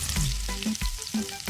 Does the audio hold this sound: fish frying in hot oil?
yes